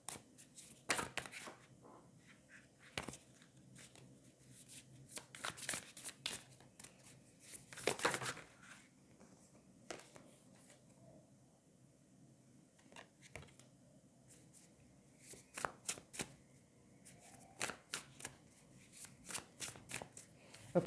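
A deck of Wild Unknown tarot cards is shuffled by hand in quiet bursts of rapid riffling and sliding, separated by short pauses, soft and close.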